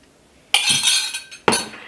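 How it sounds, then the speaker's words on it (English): A spoon clinks against a dish while stirring lemon juice into cornstarch, two bright scraping strikes close up, each trailing off, with quiet between them. "I'm actually going to mix my lemon juice with my cornstarch."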